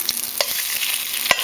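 Eggs frying in a cast iron skillet give a steady, bright sizzle close up, with a few faint scrapes and taps from a spatula over it and no voices.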